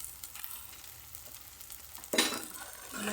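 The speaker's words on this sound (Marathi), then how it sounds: "छान असं हो होईपर्यंत मिक्स करून घ्यायचं आहे मसाला" Masala being stirred into spinach and paneer in a pan, with Everest Kitchen King and coriander powder added: a faint low scrape and quiet sizzle, then a louder burst of stirring and frying near the end.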